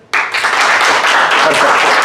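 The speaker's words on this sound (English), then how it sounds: "A clap for yourself." A seated audience at a personal-development training session claps for themselves, a dense burst of applause that starts abruptly and keeps up steadily at close range for about two seconds.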